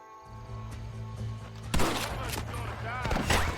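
Gunfire in a shootout in Red Dead Redemption: after a quiet opening with steady tones, a sudden burst of shots breaks out near the two-second mark, then a dense run of bangs and cracks that carries on to the end.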